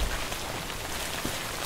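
Steady rain falls in the video game Death Stranding, a dense, even wash of patter with no distinct drops and no voices, plus one faint thump near the end.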